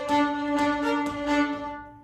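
Short fiddle tune played in Irish style, with accented bowed notes and light ornaments. Close and clear, it runs about two seconds and fades at the end.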